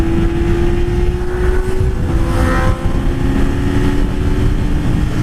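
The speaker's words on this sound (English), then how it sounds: "Wide open fields don't do much to block out wind noise." Wind buffeting a microphone in a wide open field, a heavy low rumble and gusty roar that dominates throughout, with a faint steady hum beneath.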